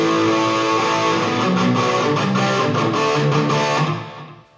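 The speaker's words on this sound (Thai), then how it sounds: "power chord ตัวนี้จะเป็นแตก delay" An electric guitar strikes a power chord through a Boss ME-20 multi-effects pedal set to distortion with delay, sounding loud, thick and sustained, with faint repeats before the sound cuts off.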